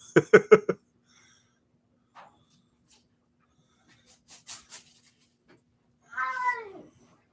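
A dumped stray cat gives a quick run of short meows, then a few faint sounds, a couple of louder cries and a final drawn-out meow, close and clear in a quiet room.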